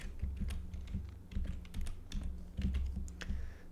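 Code being typed on a computer keyboard, with a steady run of close, fairly quiet key clicks in irregular bursts and short pauses, heard alone with no talk.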